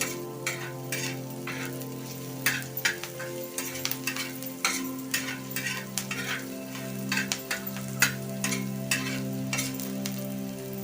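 Chopped onion frying in oil in a pan for tomato chutney, a continuous sizzle with frequent rhythmic scraping and tapping strokes of a spatula, close and clear, without any speech.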